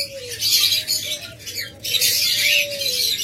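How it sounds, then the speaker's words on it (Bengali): Opaline lovebirds in a crowded bird shop give bursts of harsh, repeated squawks and chatter, loud and close, with a short gap between the calls. "অসংখ্য লাভবার্ড জোড়া রয়েছে, বিশেষ করে অপালাইন অনেকগুলো জোড়া আছে"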